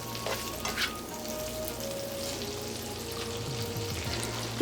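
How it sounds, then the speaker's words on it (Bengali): Beef tripe sizzles and fries in a pan over high heat, a steady close crackle with occasional stirring scrapes and no talking. "হাই হিটে ভুঁড়িটাকে ভেজে নিতে হবে।"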